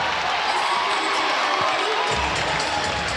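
A dense, loud crowd roars and cheers without pause in a basketball arena during a Hsinchu Lioneers vs. Taoyuan Pilots game, with a commentator's voice partly audible under the din.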